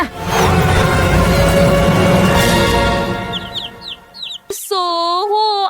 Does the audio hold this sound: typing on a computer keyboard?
no